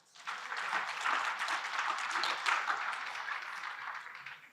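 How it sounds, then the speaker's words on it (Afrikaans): An audience at a cultural gathering claps steadily for a woman introduced on stage, a dense, even burst of applause that starts abruptly and holds for several seconds. "Lekker hande klap vir Edith."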